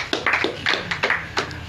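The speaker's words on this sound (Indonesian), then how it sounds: "Mari kita tepuk tangan untuk diri kita sendiri" An audience at an evening hypnotherapy accountability-report gathering claps hands in a short burst of about five or six distinct, fairly close claps lasting under two seconds.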